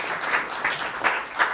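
Audience applause rising in short waves of clapping for about a second and a half, a steady crowd patter with a few louder swells, no voices over it.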